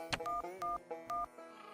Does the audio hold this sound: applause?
no